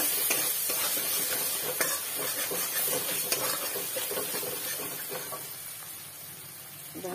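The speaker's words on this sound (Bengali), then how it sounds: "হলুদ গুঁড়ো দিয়ে দিচ্ছি। এটা ভালো করে কষিয়ে নেব।" Ground spices with turmeric powder frying and being stirred in a pan for a fish curry, a steady close sizzle and hiss with faint scraping, fading slightly toward the end, no voices.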